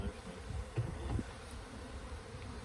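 Honey bees massed in an opened hive during a spring build-up inspection, giving a steady low droning buzz that persists throughout, with a few louder swells close by.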